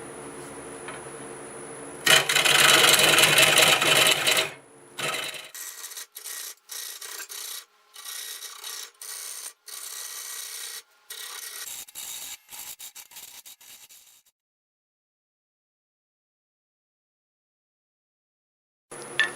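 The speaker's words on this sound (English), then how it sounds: "I'm going to use the square carbide on this just to try to get that flat." Square carbide tool scraping a black locust wood bowl spinning on a lathe, a loud rough rasping burst followed by a rhythmic run of shorter scraping passes, then silence.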